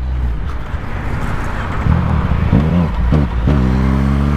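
A nearby Yamaha MT-09 motorcycle engine revs up and down in short bursts, loud and rough, its pitch rising and falling as the throttle is worked.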